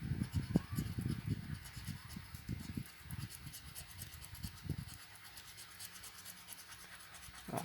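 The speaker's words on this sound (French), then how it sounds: "il faut gratter toutes les cases de gain. Donc là, ce sera le seul ticket qu'il faudra gratter en entier" Scratch-off lottery ticket being scratched, quick close rasping strokes in short bursts for the first five seconds, then fainter rubbing.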